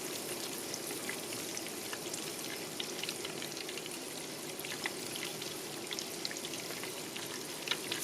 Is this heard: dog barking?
no